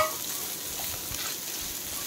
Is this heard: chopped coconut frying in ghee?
yes